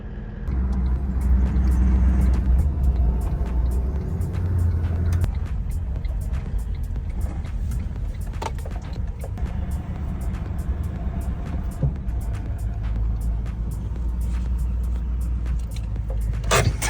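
Road traffic at a set of traffic lights on an Australian coastal drive, heard from inside a vehicle: a steady low rumble with occasional passing cars and brief clicks.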